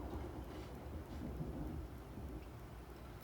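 A thunderstorm in a video game gives a continuous low rumble with a steady rain-like hiss, faint and distant, with no distinct thunderclaps.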